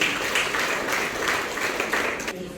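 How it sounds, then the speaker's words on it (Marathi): Audience applause at a blood donation and medical camp, a steady, dense burst of clapping heard up close, loud and unbroken throughout. "त्यांच्यासाठी आपण टाळ्या वाजवणार आहोत"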